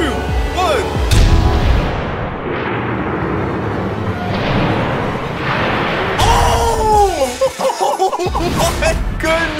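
A giant Nerf crossbow fires a heavy bolt that smashes through several walls and breaks wood, a loud burst of impact noise followed by excited shouting and laughter.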